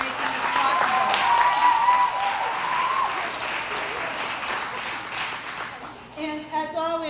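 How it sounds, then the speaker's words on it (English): An audience at a Student Government Day event claps in a full round of applause that slowly fades, and a voice starts talking as it dies down. "And we'd like a big round of applause for Mrs. Tarara and the Rotary for sponsorin"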